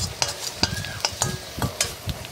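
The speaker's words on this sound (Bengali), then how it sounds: "এর মধ্যে সবজিগুলো ছেড়ে সবজিগুলোকে একটু নাড়াচাড়া করে নিলাম" Vegetables frying in oil are stirred in quick strokes, each scrape of the spatula against the pan giving a sharp clatter over a constant low sizzle, close and without talk.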